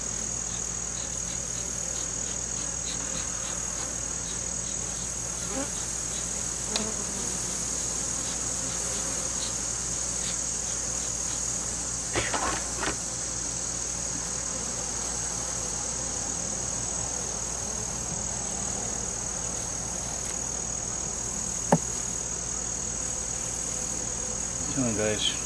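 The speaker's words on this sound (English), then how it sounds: "There's a lot of bees on these frames right here." A constant honeybee buzz hums throughout at an open hive, a dense swarm drone with occasional soft knocks and handling sounds, no talking.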